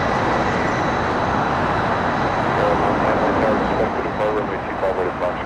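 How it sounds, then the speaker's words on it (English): A KLM Boeing Dreamliner airliner comes in to land at LAX with a loud, steady broadband jet roar that holds evenly throughout. "KLM Dreamliner up next to land. The beautiful Dreamliner"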